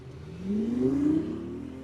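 A BMW car accelerates and revs, the engine note rising sharply in pitch over about a second, then easing off, moderately loud and close with no talk.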